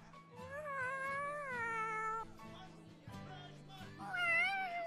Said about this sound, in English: Cat. It's a kitty cat.